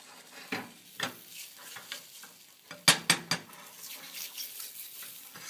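Omelette egg mixture cooking in a pan that is not non-stick, pushed around with a utensil: soft sizzle under a series of scraping, stirring strokes, a quick cluster of sharper scrapes midway, close and fairly quiet.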